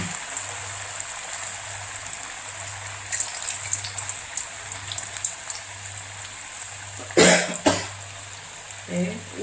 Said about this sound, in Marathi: तेल आता आपलं हे तापलेलं आहे। तर आता हे वडे सोडूया।